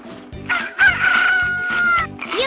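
A cartoon rooster crows in the Nickelodeon Bubble Guppies game for Nintendo DS, a bright, close cock-a-doodle-doo call over a bouncy looping game tune.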